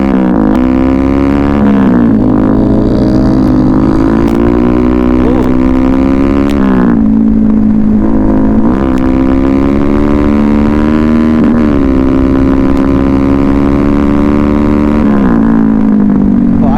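Two Yamaha R15 motorcycles race along a night road: loud, close engine drone with rising and falling revs and repeated gear-shift dips, continuous throughout with no talking.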